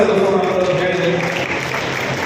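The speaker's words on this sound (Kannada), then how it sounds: "ಚಪ್ಪಾಳೆ ಮೂಲಕ ಅವರಿಗೆ ಅಭಿನಂದನೆ" An audience claps for an honoree at a public event, a dense steady wash of applause lasting the whole stretch, close and fairly loud, with no words spoken over it.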